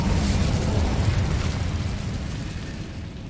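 Incendio fire spell cast in the Hogwarts Legacy video game, a loud, full rushing burst of flame that starts at full strength and fades slowly over a few seconds, with no talk.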